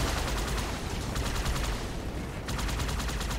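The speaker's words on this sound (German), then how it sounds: "Wer schießt denn da noch?" Rapid, sustained gunfire in the video game Halo 2 rattles in dense repeated bursts, loud and close, with no talking over it.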